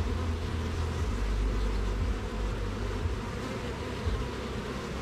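Bees buzz in a steady, dense drone around a hive frame during a honey harvest, close and constant throughout with no talk.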